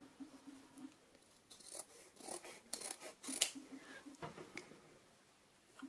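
Scissors snip through fabric for a homemade face mask in a quiet indoor setting, with a series of soft, irregular cuts and rustles close by.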